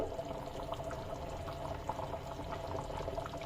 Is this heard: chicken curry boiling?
yes